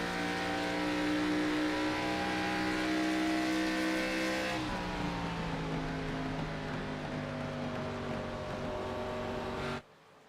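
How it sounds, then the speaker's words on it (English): A stock race car at Darlington roars loudly and steadily, then the engine note drops sharply to a lower pitch as the driver comes fully off the throttle into a turn, before the sound cuts out abruptly at the end. "You can hear him just totally off the throttle."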